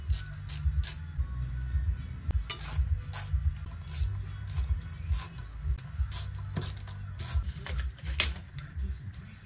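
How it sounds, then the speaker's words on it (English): A ratchet works 10 mm bolts off the engine of a 2007–2012 Acura RDX during a valve adjustment, giving quick, close bursts of crisp clicking that repeat steadily with short pauses between strokes. "Now I will take off these three bolts"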